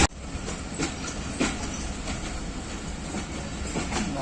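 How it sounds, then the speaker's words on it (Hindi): Hazara Express passenger train running at about 105 km/h on Pakistan Railways track at night, a steady close rumble of rail noise with periodic clickety-clack wheel beats throughout. "इस वक्त तकरीबन 105 किलोमीटर की घंटे की रफ्तार से गाड़ी चल रही है"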